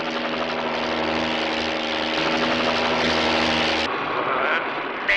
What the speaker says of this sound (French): Nous sommes tous foutus, ces hélicoptères de la police!